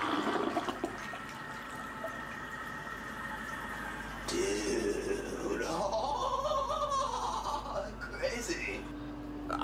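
A toilet flushes in a played animated film, rushing and gurgling water swirling down for several seconds, mixed with voices in the movie soundtrack.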